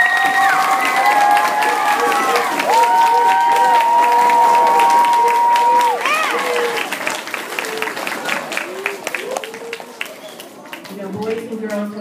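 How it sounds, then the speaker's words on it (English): Audience applause and cheering at a children's public speaking contest, a loud sustained crowd clapping with whistles and shouts that tapers off toward the end. "They really deserve another round of applause."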